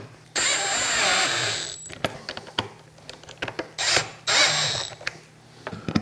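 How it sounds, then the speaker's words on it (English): A Milwaukee M12 cordless drill driver tightening screws whirs in two short bursts separated by clicks, taps and handling noises nearby. "then I'm gonna go through with the M12 installation drill driver"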